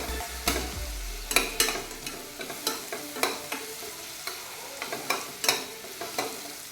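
Soft sizzling in a pan with repeated scraping stirs at a fairly regular rhythm, quiet and close, with no voices, while sautéing ingredients for paruppu rice.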